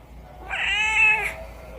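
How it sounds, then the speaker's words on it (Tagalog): A single drawn-out meow from a pet cat named Blue, close and clear, rising and fading over about a second against a quiet room. "Ito nga pala yung pusa ko, si Blue."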